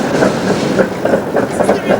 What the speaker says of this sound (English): And there goes the tram.